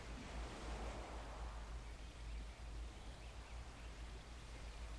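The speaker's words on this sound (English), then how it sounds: "And here's the waterfall once again." Steady broadband rushing of a waterfall on an island in the Second Life virtual world, a constant loud wash with a low rumble and no pauses, heard alone.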